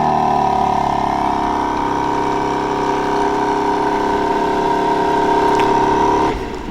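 A 2024 BMW M3 Competition xDrive engine brought to life by remote start, settling into a steady, close idle with a smooth low drone that holds throughout before cutting off at the very end.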